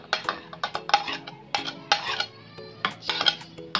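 Fried onions are stirred into masala in a pot for an egg and potato curry, with repeated metallic clinks and scrapes of a spoon against the pot in an uneven rhythm and a quiet sizzle underneath.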